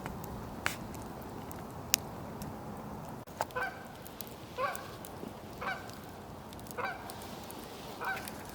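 Geese honking at night during a late-winter camp, a series of short nasal calls repeating every second or so at a distance over a steady background hiss, with a sharp click or two early on.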